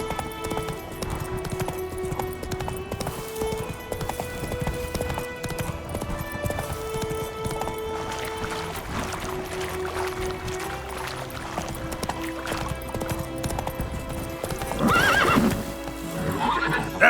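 Roach, a horse in the video game The Witcher 3, neighs and whinnies while hooves clop steadily, all over a continuous game music and ambience bed, with a louder whinny burst near the end.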